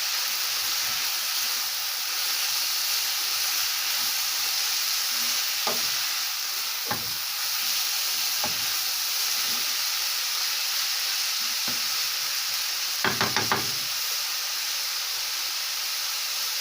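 Minced meat with carrot frying in a pan gives a steady hiss and sizzle, broken by scrapes and clacks of a stirring spoon, with a short cluster of knocks near the end and no talk.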